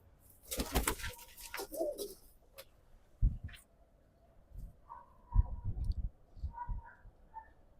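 Pigeons kept by a fancier give soft, low coos close by, mixed with clicks, wing flutters and scattered rustling, with no talk.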